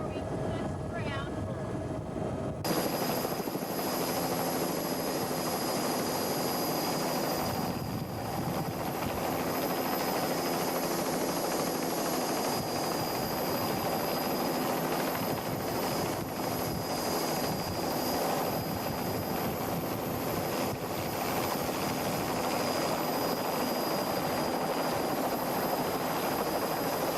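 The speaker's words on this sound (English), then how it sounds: "we're going to be landing right now, Gary." A medical helicopter comes in to land during a staged emergency trauma rescue in 1992. Its rotor and engine make a loud, steady drone with a high whine, close and continuous throughout.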